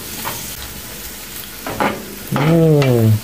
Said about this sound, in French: Après, tu mélanges.